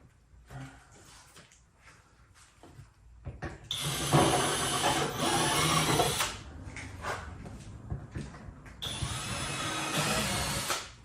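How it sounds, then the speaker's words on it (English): Two long bursts of a power drill whining steadily, driving screws at an angle into a septic riser, close by, each lasting a few seconds, separated by brief quieter handling noises. "Going around again, and I'm drilling in at an angle"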